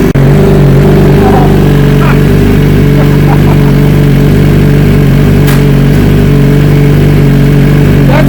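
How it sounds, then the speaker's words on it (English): A 2018 BMW S1000RR sport bike engine running loud and close with no chain fitted, a dense steady drone that holds through the stretch with slight throttle swells rather than sharp revs. "Once it warms up, we can put the throttle a couple times."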